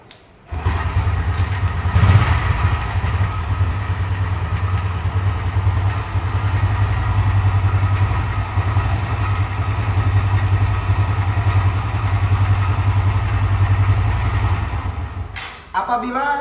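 A kick-started motorcycle with a conventional carburetor idles while warming up toward working temperature, a loud, steady low throbbing run that holds evenly for most of the stretch before cutting off near the end.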